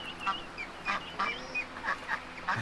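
Muscovy ducks quack and honk repeatedly at a rescue farm, scattered calls overlapping at close to moderate distance over steady outdoor background noise.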